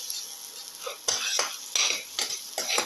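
Tamarind pieces are sauteed with a ginger, garlic and coconut mixture in a pan, the food sizzling softly under repeated rhythmic scrapes and clinks of a spoon against the metal.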